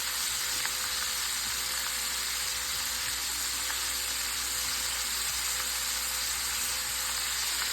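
Sous vide chicken wings frying in a pan, a dense, steady sizzle and crackle that holds evenly at close range without pause.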